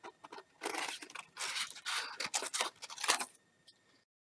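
Scissors snip through folded paper in a quick series of close, crunchy cuts with brief rustles between them, then the sound trails off into quiet.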